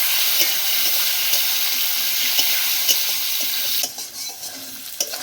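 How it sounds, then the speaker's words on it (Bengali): Boiled potatoes hit hot oil in a kadai that already holds cumin, green chillies and whole spices, with a loud, dense, close sizzle that holds steady, then suddenly drops to a softer crackle with occasional pops. "এখন আমি সেদ্ধ করা আলু প্রথমে কড়াইতে দিয়ে দিব।"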